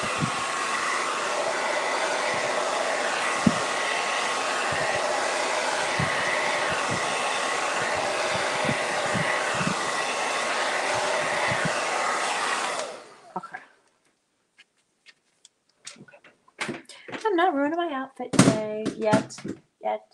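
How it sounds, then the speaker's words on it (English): A hair dryer blows steadily and loudly for about thirteen seconds, then cuts off, followed by quiet rustling and a few brief clatters. "Oh wait, hair dryer. I really gotta hair dry this."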